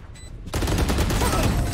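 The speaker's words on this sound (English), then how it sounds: "That was a pretty nice wall bang." Gunfire from a tactical shooter game, a sudden dense burst of rapid shots fired through a wall, loud and close, kicking in after a short quiet moment and continuing to the end.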